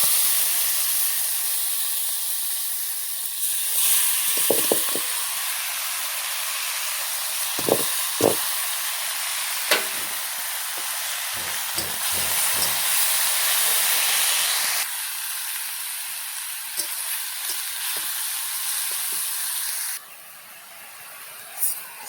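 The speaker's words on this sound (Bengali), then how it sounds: "আর দুটো শুকনো লঙ্কা দিয়েছি, দিয়ে শাক ভাজবো।" Greens frying in a hot pan with garlic and dried chillies give a loud, steady hiss and spatter, with scattered clinks and scrapes of a utensil throughout.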